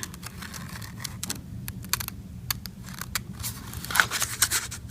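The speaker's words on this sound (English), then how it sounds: "I had to cut this paper out" Scissors cutting out a paper pattern for beaded moose-skin slipper tops, with a steady series of close, crisp snips and papery rustles and scrapes, sometimes in quick clusters, with no talking.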